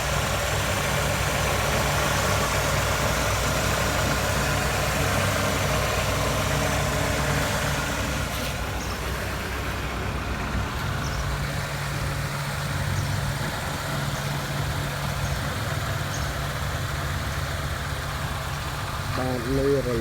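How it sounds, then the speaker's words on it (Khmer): A 1997 Honda CR-V engine idles quietly and steadily for the whole stretch, a low even hum with a voice talking over it. "បាទម៉ាស៊ីនស្ងាត់ល្អណាស់"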